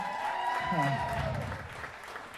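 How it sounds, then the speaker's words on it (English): Guests at a wedding reception in a seaside park pavilion applaud under a voice or music, a moderate clapping that swells briefly and then fades. "Give them a nice round of applause."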